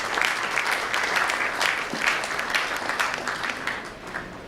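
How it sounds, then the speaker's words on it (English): An audience at a Europe Day celebration for EU Chambers applauds, a full crowd of clapping hands holding steady before easing slightly toward the end. "let's have an encouraging round of applause for the EU Day and for EU Chambers"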